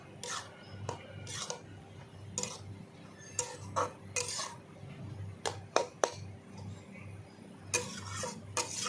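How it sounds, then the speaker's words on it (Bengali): Kalmi greens with poppy seed are stirred in a pan, producing irregular, close clicks and scraping knocks of a utensil against metal over a faint background hum. "এবার আবার নাড়িয়ে দেবো ভালো করে একসঙ্গে মিশিয়ে নেব সব"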